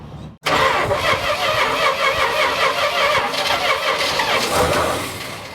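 Engine of a Dodge camper pickup abandoned for 25 years turns over and catches, then runs loud and steady close by with a rough, uneven rumble and no talking.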